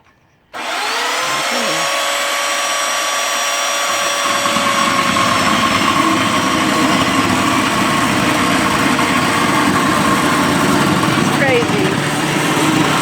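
A chainsaw engine starts up and runs steadily, buzzing loud and close for most of the stretch with a constant high whine and no pauses.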